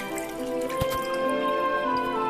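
Water runs from a tap in a London sink with separate hot and cold taps, a close, continuous splashing flow broken by a few sharper drips, and no talking.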